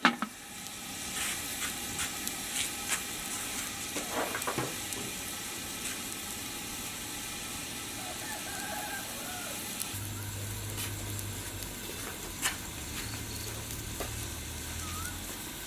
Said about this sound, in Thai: น้ำเดือดแล้วครับ วางไปเลยครับ ปิดฝา